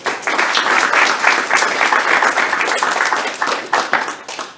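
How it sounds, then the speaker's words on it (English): Audience applause at a tech expo pitch session, many hands clapping in a lively, uneven wash that swells and dips before thinning toward the end. "Thank you, everybody, for clapping"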